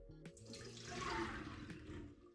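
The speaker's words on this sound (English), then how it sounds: "what I'm gonna do now is to strain the water" Soaking water pours out of chickpeas through a strainer, a close, steady gushing rush that swells and then eases over a couple of seconds, with no voices.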